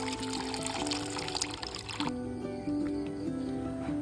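A bitter gourd seedling is set into water, giving a soft continuous pour and trickle with a low tonal hum underneath, close and steady throughout.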